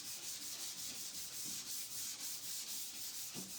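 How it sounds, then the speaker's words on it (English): A 220-grit sanding sponge rubs back and forth over a painted furniture piece in steady, rhythmic strokes. The scratchy swishing is close but quiet and continues without pause, with no talking. "So I'm taking this, it's a 220 grit sanding sponge."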